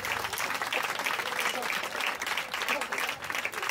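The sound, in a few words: congregation clapping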